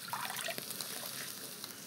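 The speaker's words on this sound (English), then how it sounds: "now they can go into the boiling water." Rice noodles, already softened, drop into a pot of boiling water, giving a short wet splash and bubbling trickle that stays steady and close for a couple of seconds with no talking.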